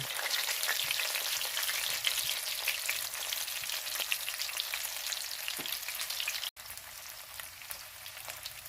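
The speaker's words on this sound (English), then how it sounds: "we have the fat cap around the oxtail searing" Oxtail fat cap sears in a hot pan, a steady close crackling sizzle with dense popping spatters, briefly cutting out near the end before resuming.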